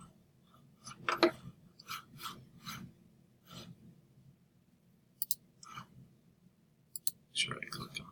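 Computer mouse clicks come as short, crisp ticks, a handful of them spaced irregularly at close range, with soft rubbing and faint handling noise in between.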